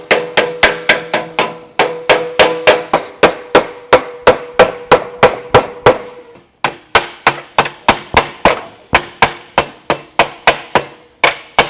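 A metal flange being shrunk over a hammer form by hand hammering gives a long run of sharp, ringing metallic blows, close and loud, in a steady rapid rhythm with a brief pause midway.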